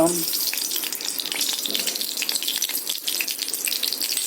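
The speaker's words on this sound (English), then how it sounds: "I have added 2 tablespoons of sesame oil in it, mustard seeds and" Mustard seeds crackling in two tablespoons of hot sesame oil for a dry gooseberry curry, a steady dense sizzle and spatter holding at an even level throughout with no talk.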